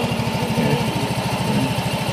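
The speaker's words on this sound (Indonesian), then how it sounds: "Pompa air, pompa apa itu? Pompa air." A small water pump engine runs steadily close by, a rapid even putter with a buzzy mechanical drone and no talking over it.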